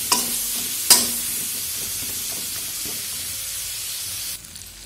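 Spices sautéed with turmeric, salt and chili powder dissolved in hot water, producing a continuous close hissing sizzle with a couple of sharp spatula clinks early on, steady until it drops off near the end.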